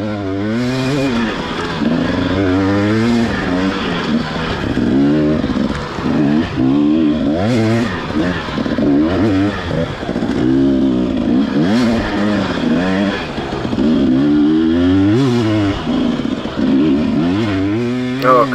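Dirt bike engine roaring through an off-road race at the BJEC Stillwater 500, loud and close throughout, revving up and down in constant surges as the rider pushes over dirt trails, with no talking.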